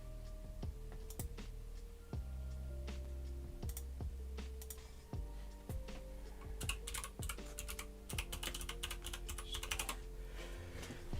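Scattered clicks from a mechanical keyboard being tested, heard over sustained tones that shift in pitch. The keystrokes come irregularly, then cluster more densely near the end. No one speaks.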